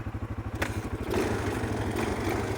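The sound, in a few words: Yamaha XT350 motorcycle engine running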